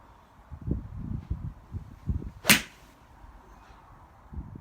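A single sharp, muted strike of a PXG 0311XF golf iron with an elastomer insert hitting a ball rings out once mid-clip, surrounded by low thumping background noise and faint rustling.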